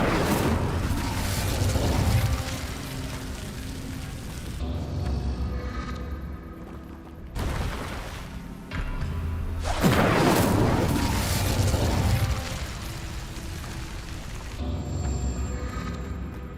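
An Incendio fire spell cast in Hogwarts Legacy, loud whooshing bursts of flame with booming crashes that come in several surges, close and alone.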